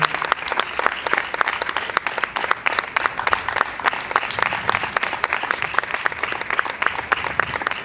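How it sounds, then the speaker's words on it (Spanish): Audience at the stage presentation of the musical Charlie and the Chocolate Factory breaks into sustained, dense applause, steady and close throughout. "please give a round of applause for Silvia Álvarez."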